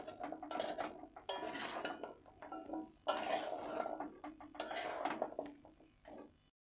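Fried goja snacks are stirred into jaggery in a pot with the flame off, making repeated close clinks and scrapes of a spoon against metal in uneven bursts.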